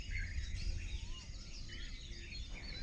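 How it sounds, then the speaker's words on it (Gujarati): Birds chirp and twitter beside a flowing river at Vaherakhadi on the Mahisagar, a steady scatter of soft, fairly distant calls over a low rumble of water and wind. "આ પક્ષીઓનો અવાજ સંભળાય છે મિત્રો"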